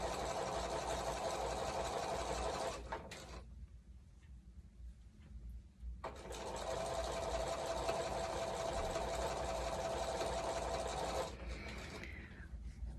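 A sewing machine stitches quilt pieces in two long, even runs of rapid mechanical whirring, broken by a short pause, heard close and alone.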